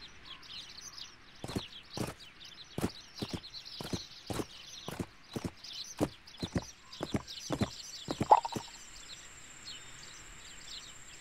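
Horse hooves clip-clop in a PC riding game, a series of sharp, fairly close steps in an uneven rhythm over a steady background of birdsong, with no talking.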